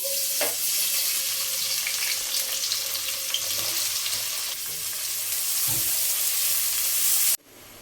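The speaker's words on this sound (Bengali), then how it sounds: "তেল গরম হয়ে গেছে তো আমরা এখন পেঁয়াজ ছেড়ে দেব" Onions fry in hot mustard and soybean oil, a loud, steady, close sizzle and hiss with an occasional utensil knock, cutting off abruptly at the end.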